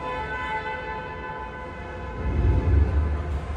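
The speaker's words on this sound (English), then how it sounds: "this tram is ready to depart" Disneyland tram pulling away from its stop, a low rumbling engine that swells louder toward the end under a steady hum and a sustained tonal drone.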